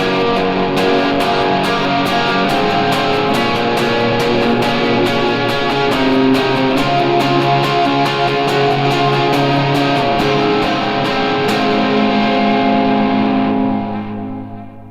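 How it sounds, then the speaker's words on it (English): Distorted electric guitar rhythm tone from a Line 6 Helix, full-band worship style in D, strumming dense sustained chords loud and continuous for about fifteen seconds before ringing out at the end. "And then I have a dirty rhythm sound for when it's full band."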